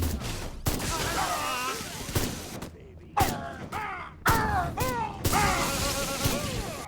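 Gunfire in the video game Destroy All Humans: repeated sharp shot bursts break through in clusters amid a busy mix of game noise and voices, loud and close.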